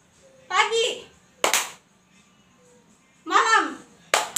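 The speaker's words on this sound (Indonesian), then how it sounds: "Jika Ibu bilang siang, tepuk tangan 2 kali" Children in a classroom game clap their hands together in sharp bursts, twice at separate moments, each following a short spoken call from a woman.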